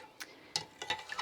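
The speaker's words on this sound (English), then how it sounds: "just keep giving this a little stir to make sure the caustic soda remains dissolved." Caustic soda dissolved in lavender tea is stirred in a jug, giving a series of quiet, irregular clinks and scrapes about every tenth of a second to a few tenths apart. No one talks.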